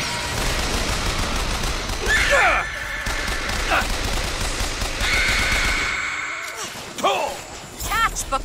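Bursts of gunfire aimed at the player in BioShock Infinite, loud and close, with rapid volleys under a talking voice and clanging impacts scattered through.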